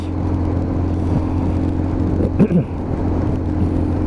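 A Lexmoto Assault 125cc motorbike rides along a very wet road with a steady low engine drone and tyre hiss, the tone holding even before a brief rougher burst partway through.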